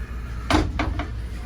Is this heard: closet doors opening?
yes